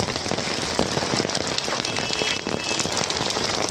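Heavy monsoon downpour in Kalyan drums steadily on surfaces close by, a dense unbroken hiss of rain with no voices.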